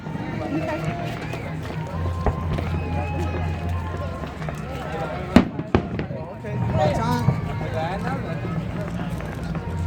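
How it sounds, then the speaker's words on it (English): Distant Fourth of July fireworks over Tempe Town Lake, Arizona, pop and boom a few times, including a couple of sharp louder bangs, under crowd chatter and nearby voices. "The fireworks in Tempe, Arizona."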